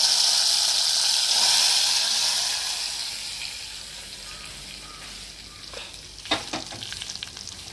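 Lentils dropped into hot ghee for tempering hiss loudly at first, a bright broad sizzle that gradually fades, followed near the end by a few clattering stirs of the pan.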